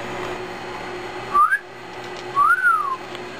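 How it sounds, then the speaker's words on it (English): A person whistles to a pet bird in two short, clear rising-and-falling whistles about a second apart, close and loud over a faint steady background hum. "every time I whistle, he shakes his head"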